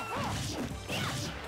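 An explosive smash from a crash bomb going off in a video game, a loud burst followed by a second swelling crash with swooshing sweeps, loud and close.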